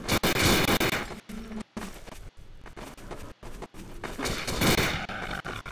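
Rapid bursts of gunfire from a powerful gun in the zombie video game Codename Cure, loud repeated shots in quick volleys with brief gaps between them.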